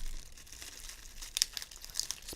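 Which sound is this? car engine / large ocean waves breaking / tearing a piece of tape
tearing a piece of tape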